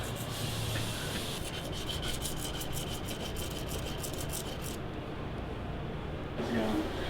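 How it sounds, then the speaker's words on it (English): Guitar frets at an LSL Instruments guitar factory are sanded one by one with fine grit up to 800, making a continuous close rasping rub with quick repeated strokes in the middle, while voices sound in the background. "you can see that we are sanding each fret individually with up to 800 grit"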